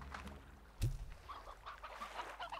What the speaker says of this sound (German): Noch ein Huhn. Ich muss mehr Hühner sammeln.